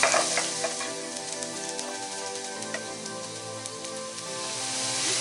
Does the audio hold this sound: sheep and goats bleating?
no